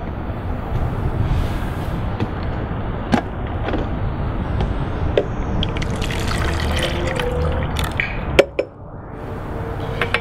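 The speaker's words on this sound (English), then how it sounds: "the first thing you'll need is 2 cups of fresh squeezed orange juice" Fresh squeezed orange juice poured steadily in a continuous liquid stream for several seconds, with a sharp clink near the end as the pour stops.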